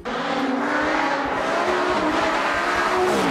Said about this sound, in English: someone seems to have taken the baffles out of the exhaust because you can hear it about 400 miles away